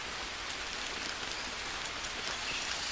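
Steady rain pours in the survival game Green Hell, a dense, even hiss of drops on surfaces that continues unbroken with no voices.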